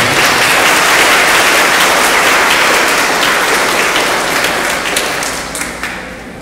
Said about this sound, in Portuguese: Um salve de palmas para o casal.